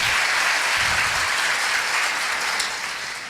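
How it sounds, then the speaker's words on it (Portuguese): An audience at a Portuguese-and-English church talk gives John a big round of applause, loud, dense clapping that fills the space, with a low thump or two early on, then eases off slightly near the end. "Give John a big hand clap."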